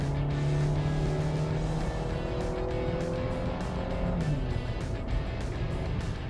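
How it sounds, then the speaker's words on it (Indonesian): A 2022 Suzuki Ertiga Hybrid's petrol engine revs hard and steadily under full-power acceleration, a loud continuous droning roar with rising and shifting tones throughout. "Nah, saat ini mesinnya ya, mesin bensinnya yang jalan full."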